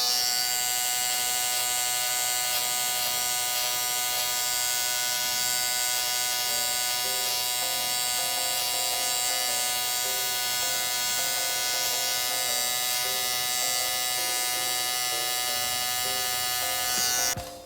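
A close electric shaver buzzes continuously at a steady pitch, its hum shifting slightly as it moves over hair, with no talking.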